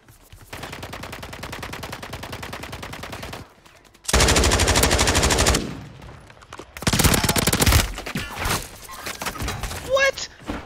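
Video-game machine gun fire in long rattling bursts, loud and close, broken by short pauses, with a few other shots and clunks toward the end.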